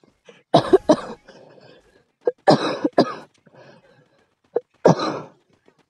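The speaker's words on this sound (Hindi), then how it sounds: "खांसी बहुत हो रही है।" Several bursts of coughing in quick clusters, fairly close and loud, separated by short pauses with faint background sound.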